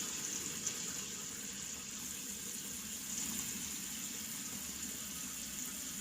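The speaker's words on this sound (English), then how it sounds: "So you can rinse it off or use a cloth." Water runs steadily from a tap while a face is rinsed, a faint, even hiss of flow with no talking.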